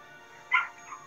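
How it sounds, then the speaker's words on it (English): A puppy left outside whimpers and cries, one short high yelp followed by a fainter whine, heard at a distance over low background hum. "Man, my fucking puppy is crying."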